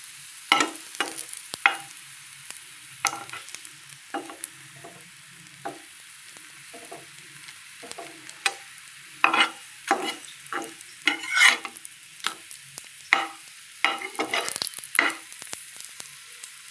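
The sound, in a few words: frying katla fish omelette in oil in a pan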